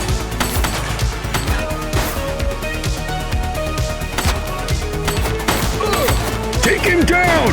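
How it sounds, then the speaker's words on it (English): Gunshots crack in The Precinct, an open-world police video game, as sharp bursts and volleys scattered over a busy mix of game sound and background voices. "Shooting!"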